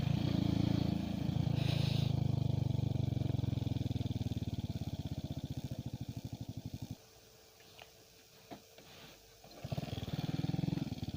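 A motorcycle engine drones loudly and rhythmically, then drops away to near quiet with a few clicks before revving back up at the end.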